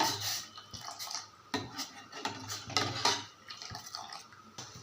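A utensil scrapes and clinks against a pot in repeated stirring strokes as milk boils on a low flame, with faint liquid sloshing, close and moderately loud.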